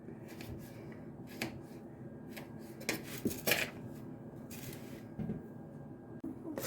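A knife slices pork fat into thin small pieces on a board in quick, quiet strokes, with light clicks and scrapes close by.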